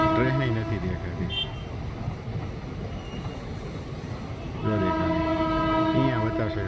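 A train rumbles past close by while its horn sounds in two long, loud blasts, one at the start and another near the end, with a steady rolling clatter between them.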